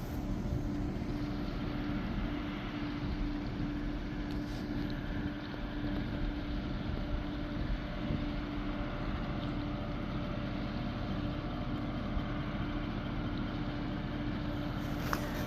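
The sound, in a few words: ferry boat engine running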